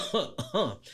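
A man gives a few harsh, throaty coughs, roughly three bursts within a second, close and fairly loud.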